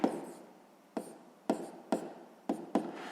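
A pen on paper writes out a sixth-grade maths solution, heard as soft scratchy strokes broken by several sharp taps as each mark or word begins, close and alone.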